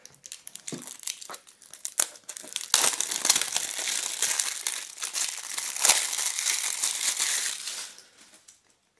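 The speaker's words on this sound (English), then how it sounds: "let's start off by first ripping off the shrink wrap" Plastic shrink wrap is torn and crumpled off a boxed pair of Langsdom A8 earphones, a close, crackling crinkle that starts in scattered bursts, swells into a dense, continuous rustle, then fades out.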